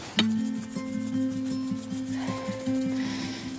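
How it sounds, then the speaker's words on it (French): Hands massage salt into raw trout fillets on a cutting board, a close, steady rubbing and rasping with a few sharper strokes, quiet and without talk. "je vais bien masser avec mes doigts pour l'étaler partout sur le poisson"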